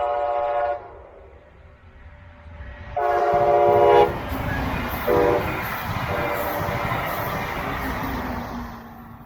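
A Brightline high-speed passenger train, on 110 mph testing in Brevard County, rushes past with a loud rumbling roar, its horn blaring in two blasts, rail noise swelling and lingering as it speeds by.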